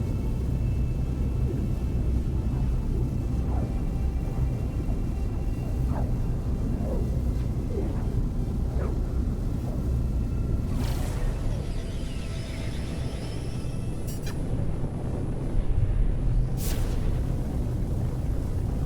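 Deep, steady spaceship pulse drive rumble from No Man's Sky, a continuous low roar with occasional faint whooshing sweeps and brief higher tonal streaks late on, no voices.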